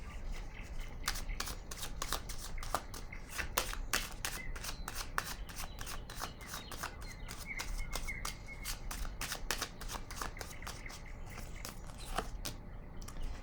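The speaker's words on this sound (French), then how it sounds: "Je vais déposer une carte sur le 21 de l'univers." Tarot cards being shuffled and laid out: a long run of quick, crisp card riffles and slaps, rhythmic and close, continuing steadily without talk.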